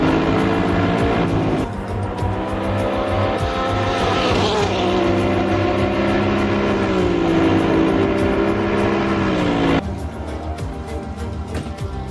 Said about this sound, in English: these cars are very, very loud here